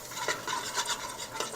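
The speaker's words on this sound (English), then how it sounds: "And now I'm going to fry this a little bit in this oil." Goat meat stirred and frying in hot oil for a curry, giving a steady close sizzle broken by several scraping stir strokes.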